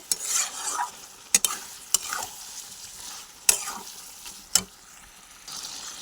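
Chicken masala fries in a pan, its soft sizzle broken by several sharp scrapes and knocks of a spoon stirring the spices, close up and with no talk.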